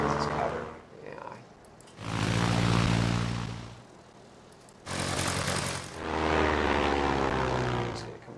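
Propeller plane engine droning in the flight game Ace Patrol, swelling and fading in long loud surges with quieter gaps between them.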